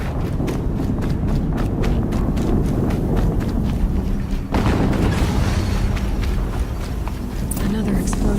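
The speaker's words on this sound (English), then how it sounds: "Another explosion." Explosions in the video game Horizon Zero Dawn, dense booming blasts and rumbling debris amid rapid galloping clatter, loud and continuous with a sharp burst around the middle, while a voice talks over the action.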